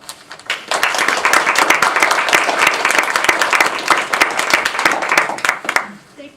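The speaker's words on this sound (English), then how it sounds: "let us give a big round of applause to Vincent and Professor Maun" An audience at an academic brown bag talk at a humanities center breaks into steady applause, a dense roomful of clapping that starts abruptly, holds for several seconds, and tapers off near the end.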